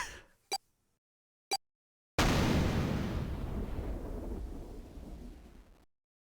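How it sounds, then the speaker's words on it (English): Explosion in the video game Zero Escape: 999: two sharp clicks lead into a sudden loud blast that rumbles and slowly decays for several seconds before cutting off. "The explosion rocked the room."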